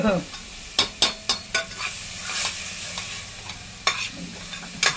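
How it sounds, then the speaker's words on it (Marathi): Garlic frying in a pan for a traditional Maharashtrian Bhogi vegetable dish, stirred with sharp scraping strokes over a steady sizzle, a quick burst of stirs early, then a few more at intervals, close and fairly loud. "लसणीचा कच्चेपणा जाईपर्यंत हे शिजवून घेतलं"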